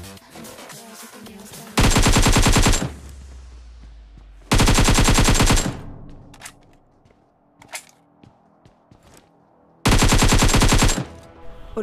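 Automatic gunfire in the mobile shooter Battlegrounds Mobile India comes in three loud, sharp bursts of rapid shots, each about a second long, with quieter single cracks and game noise in between.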